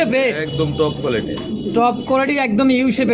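Pigeons coo at a wholesale pigeon market where Lahori and other fancy breeds are sold, giving short, throaty, repeated calls close by, mixed with people talking.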